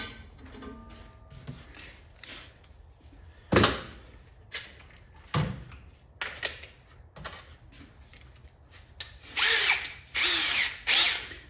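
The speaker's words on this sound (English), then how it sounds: "I'm just gonna drill a hole rather than a slot" A power drill with a 1/4 inch bit works a hole in a lower bezel piece for a Paperboy arcade cabinet, with a few short whirring bursts, sharp knocks, and handling clatter between them.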